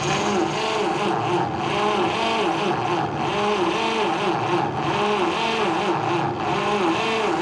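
A 1952 Chevy truck engine, with its timing off, runs loud and close at its first start, holding a steady, slightly lumpy idle with a rhythmic pulsing throb throughout.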